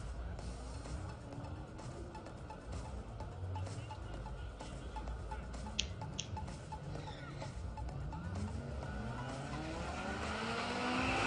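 At Santa Pod Raceway, a BMW race car goes sideways, its engine whining and tyres squealing at a distance, faint under crowd and track ambience that swells toward the end.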